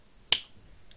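A single sharp finger snap rings out close and alone during a card trick, followed by near silence and a faint later tick.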